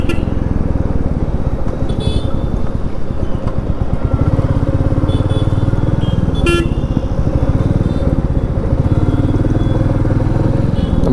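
A motorcycle cruising on the highway from Bangalore to Yelagiri, its engine droning loud and steady close by, with wind rush and brief horn toots from traffic.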